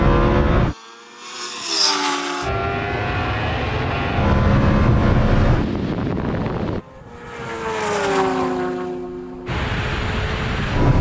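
A Lamborghini Huracan tuned to 1100 hp and a Kawasaki H2R superbike accelerate hard past in a drag run, loud rising engine roars with gear-change breaks, sweeping by close and fading into the distance.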